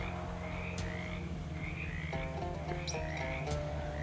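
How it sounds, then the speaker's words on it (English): A frog croaks in the video game Shadows Over Loathing, with repeated croaking calls sounding over a steady, continuous game music bed. "One of the larger frog stops up and coughs loudly."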